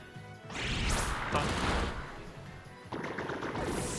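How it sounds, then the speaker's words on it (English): Scale Shot, a Pokémon battle move, bursts out in loud, crunchy, multi-hit impact effects: one long rattling blast, a short pause, then a second harsh burst fading out. "So we're gonna Scale Shot."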